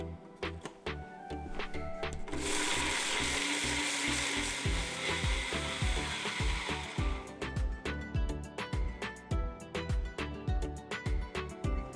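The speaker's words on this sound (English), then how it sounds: "go ahead and grind up your spices" Blender grinding whole chai masala spices: a loud continuous whirring roar in the middle, framed by rattling, clattering pulses as the hard spices knock around the jar.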